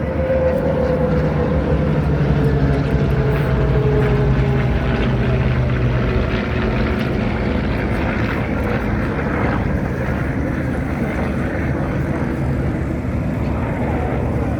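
A Balbo formation of aircraft taxiing past at an air show in Illawarra gives a loud, continuous engine drone that stays steady throughout, with a gradually shifting tone as the planes roll by.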